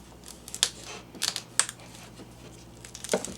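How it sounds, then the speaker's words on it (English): A knife trims the root ends off washed beets with a few soft, crisp cutting clicks spaced irregularly over quiet background. "So I'm going to cut the root off."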